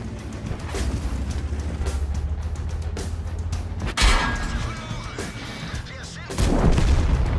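Heavy artillery fire in the World of Tanks game, with loud booming impacts near the four- and six-second marks cutting through a steady rumble of tank engines.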